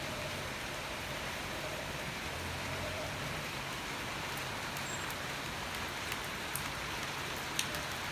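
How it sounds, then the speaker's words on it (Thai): Steady rain falls in a dense, even hiss, with a few sharper drips and taps standing out near the end. "แค่ว่าฝนตกครับ"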